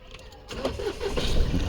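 A 2022 Mahindra Bolero Neo N10 engine is started: a brief quiet pause, then the starter catches and the engine rumbles into a steady, close run.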